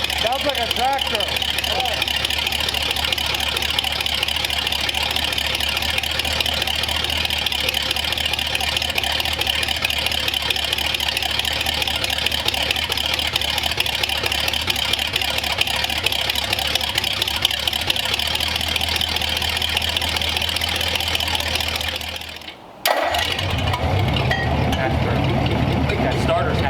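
Scrap-built engine run stand with a choked engine running at a steady rough idle, loud and close, a tractor-like drone that cuts out briefly near the end and then resumes.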